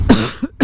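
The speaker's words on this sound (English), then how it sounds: "Let me just cough in your face, in your ear." Two sharp coughs from a person close to the microphone, a long rough burst followed by a shorter one after a brief gap, with no talking.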